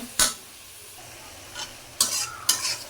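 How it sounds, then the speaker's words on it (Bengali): Spices sizzle softly in a pan while sharp stirring scrapes strike in four bursts, two close together near the end, cooking a tilapia and gourd-leaf curry. "এখন ভালো করে মশলাটা ভাজা নিব"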